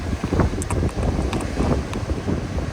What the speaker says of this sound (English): Look at how windy